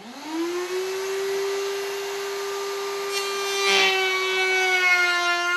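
Router making a cleanup pass on a wooden bowl with end grain, a steady high whine held for several seconds with rising harmonics and a brief burst of cutting noise near the end, close and loud.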